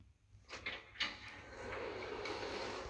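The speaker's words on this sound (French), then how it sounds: "ici on va ouvrir la porte" A door opens in the horror video game Garten of Banban: a couple of quiet knocks and clunks, then a soft sustained rumbling slide, faint and alone.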